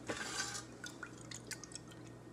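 Water poured from a cup into a mixing bowl for bunny cake batter, a brief trickle and a few drips close by over a steady low hum.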